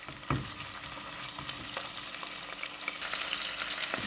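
Chicken hearts and liver frying in a pan with garlic, with a steady close sizzle throughout and a few scraping stir clicks from a spoon, the crackle growing a little louder near the end.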